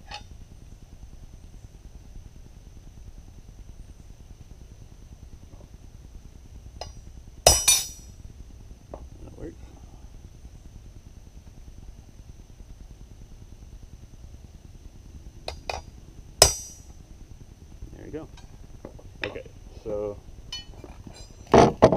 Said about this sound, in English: I'm going to mark here and hammer in this way